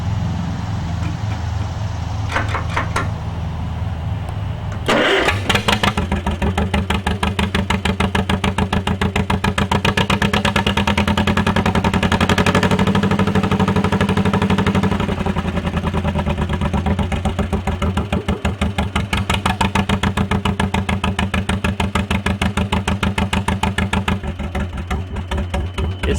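An antique John Deere "Johnny Popper" tractor engine runs quietly for a few seconds, then surges louder into a steady, rapid putt-putt popping that continues close by without a break.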